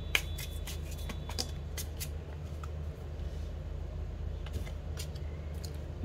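Tarot cards being shuffled and drawn make a series of soft, quick riffling flicks and taps over a low, steady room hum, with no talking.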